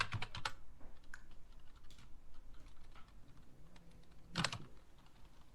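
Rapid bursts of computer keyboard typing while C# code is written, loud clatters near the start and again after four seconds, with softer scattered key taps in between.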